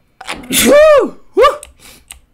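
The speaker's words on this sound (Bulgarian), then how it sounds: "тия два дни само кихам" One loud, close human sneeze: a sharp gasping intake bursts into a voiced sneeze, followed by a shorter second sneezing burst and a faint breath afterward.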